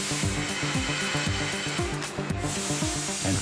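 Computer-controlled cutting of steel plate for the hull of the Queen Mary 2 liner, a continuous loud industrial whine with rhythmic falling tonal sweeps repeating about every half second, steady machinery noise throughout with no voices.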